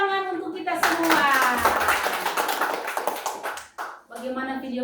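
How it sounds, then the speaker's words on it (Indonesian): An audience of children claps together after a lesson, a dense burst of hand clapping lasting about three seconds that fades out, framed by talking before and after. "Ya, tepuk tangan untuk kita semua."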